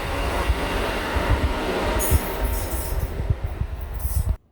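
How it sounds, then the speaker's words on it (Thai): A train departing a station, rumbling wheels clattering over rails with bursts of high squealing, loud and close, ending abruptly. "รถไฟก็จะมุ่งหน้าไปที่ อฟิลา"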